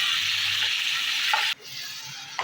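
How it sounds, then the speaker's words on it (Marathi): Onion and tomato fry hard over a high flame, a loud steady sizzle broken by a brief drop in level partway through as the pan is stirred. "काही सेकंद फास्ट गॅसवरती आपण कांदा टोमॅटो तळून घेतलेला आहे"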